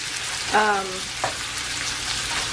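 Evenly coated sausage pieces sizzling and frying in a pan, a steady close crackle with a short vocal sound near the start.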